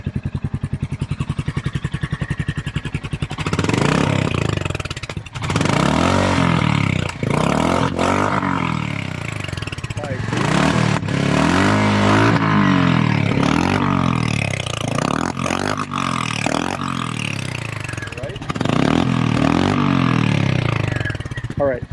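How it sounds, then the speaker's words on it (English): A Royal Enfield motorcycle, either a Hunter 350 or a Scram 411, revs through an aftermarket exhaust pipe. Its engine roars up and down in repeated throttle blips, loud and close, with a rising and falling pitch and a burbling idle between. "I have not heard this pipe on this bike yet."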